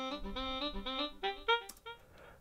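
A saxophone part played back in Ableton Live plays a short melodic phrase of separated notes, clean and fairly quiet, with no voices.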